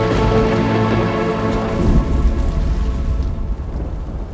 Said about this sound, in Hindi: स्वामी, प्रतीत हो रहा है तीव्र वर्षा आने वाली है।